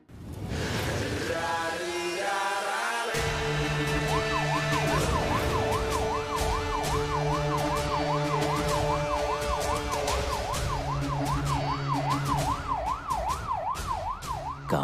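A police car siren wails, rising and falling in steady sweeps, loud and continuous, layered over music that runs throughout.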